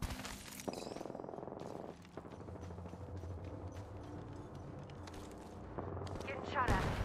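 Rapid bursts of gunfire in an Apex Legends match keep cracking through a dense wash of battle noise, with a steady low rumble beneath and a sharper swell near the end.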